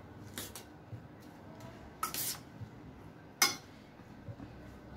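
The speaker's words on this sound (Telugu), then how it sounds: "నెక్స్ట్ ఒక్కసారి జస్ట్ ఈ వెజిటేబుల్స్ని మనం మిక్స్ చేసుకుందాం" Chopped vegetables with green chilies and coriander are mixed in a bowl for a sandwich filling, giving a few faint, scattered clinks of a spoon against the dish over a quiet background.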